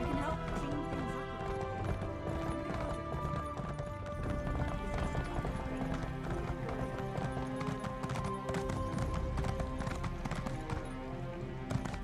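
A horse's hooves clip-clopping steadily in the video game Elder Scrolls Online as the rider travels among many players. The rhythm is continuous and dense, mixed with game music and ambient sound.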